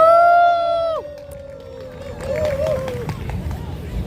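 At an outdoor candlelight protest rally in Ansan, a voice rings out over a loudspeaker, then a crowd breaks into scattered cheering and clapping to welcome a singer, with noisy babble continuing afterward.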